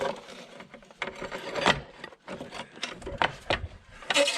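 The rear wheel of a 1998 Suzuki GSXR 750 SRAD motorcycle is worked backwards out of the brake caliper, giving irregular close metallic knocks, scrapes and rubbing clunks with short gaps between them.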